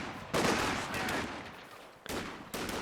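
Machine gun fire in Company of Heroes 2, a bursty rattle of automatic shots that fades in the middle and returns in short bursts, loud and close amid battle noise.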